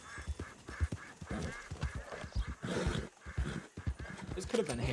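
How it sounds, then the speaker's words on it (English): Ducks quack in Red Dead Redemption 2 amid outdoor game ambience with hoof clip-clop, someone talking over the calls throughout. "Yeah, actually, those sound like ducks."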